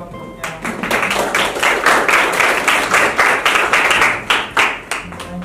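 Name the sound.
class applauding for the group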